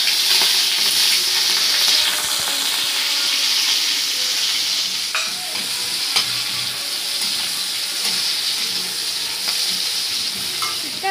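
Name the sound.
onions and slit green chilies frying in oil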